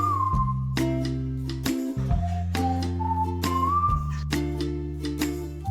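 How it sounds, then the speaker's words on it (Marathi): A pressure cooker on a gas stove, cooking a fresh green pea curry, lets out a loud, sustained whistling hiss whose pitch wavers and steps between tones for several seconds, with no voices over it. "चला आपल्या 2 शिट्ट्या झालेल्या आहेत."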